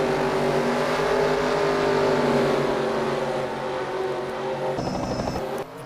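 NASCAR Nationwide Series race cars circulate behind the pace car at New Hampshire, a loud, continuous engine roar that holds steady and then shifts pitch slightly as the field passes.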